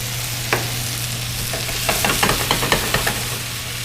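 Broccoli stir-fries in oil in a pan, a steady close sizzle punctuated by a series of sharp scraping and tossing clicks from stirring.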